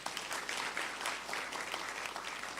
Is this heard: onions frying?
no